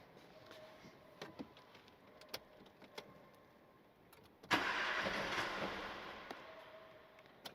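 A Nissan Micra K12 with a no-start fault is cranked: after a quiet stretch with faint ticks, a loud broadband whirring burst of cranking begins midway and continues steadily to the end, close and without talk.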